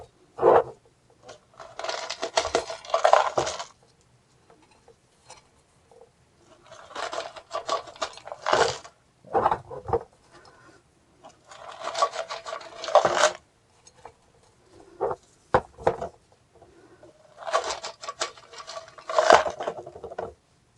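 Dry orchid bark chips rustling and scraping as they are pushed down into a pot around the roots during repotting, in short bursts of scratchy, woody rattling separated by quiet pauses.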